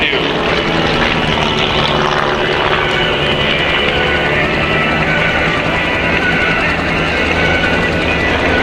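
The VanGuard squadron's aerobatic propeller planes perform at the Coles County Memorial Airport airshow in 2022. Their engines make a loud, continuous, rough droning roar overhead that stays strong throughout.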